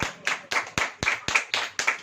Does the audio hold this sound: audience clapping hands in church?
yes